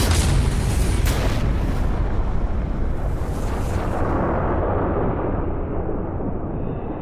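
A massive asteroid impact explosion near New York City: a loud, sustained roaring blast with deep rumble that starts at full force and slowly thins out over several seconds, with no voices.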